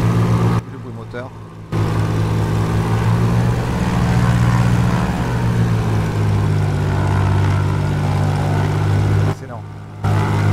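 A Piaggio P149D piston propeller engine idles steadily in Microsoft Flight Simulator after parking, a loud continuous low drone with a constant harmonic hum, briefly cut out at start and end.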